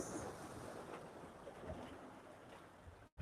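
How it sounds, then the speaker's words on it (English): Ocean waves at a rising high tide on the west coast of Grenada wash steadily against the shore. The surf is soft and continuous, with wind noise mixed in and no voices. "the waves are getting stronger and stronger. It seems as though high tide is setting in."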